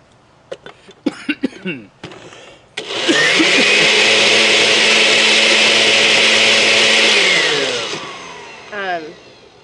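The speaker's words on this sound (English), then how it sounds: "I might need to get a different blender." An old home kitchen blender, about 25 to 30 years old, roars loudly for about six seconds at a steady pitch, then winds down. Brief talk and clatter come before it starts.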